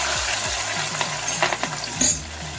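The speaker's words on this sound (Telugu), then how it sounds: "ఈ వెల్లుల్లి వేసి ఫ్రై చేసుకుందాం" Garlic fries in hot oil in a pan, with a steady crackling sizzle and a spatula scraping and stirring in repeated strokes, close and fairly loud with no voices.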